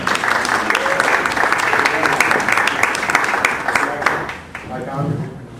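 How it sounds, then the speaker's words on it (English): An audience at an LA2M meetup gives a warm round of applause welcoming a speaker: loud, dense, sustained clapping that tapers off near the end as a voice starts speaking. "let's give him a warm round of applause to welcome him"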